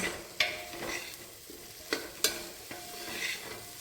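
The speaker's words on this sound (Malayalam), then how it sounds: "ഫ്ലെയിം കൂട്ടി വെച്ചിട്ട് നന്നായിട്ട് കുറച്ച് നേരം വഴറ്റിയെടുക്കണം" Mixed vegetables are sautéed over a high flame for vegetable biryani: a soft frying hiss under several distinct spoon-on-pan strikes and scrapes spaced irregularly, close up and with no talking.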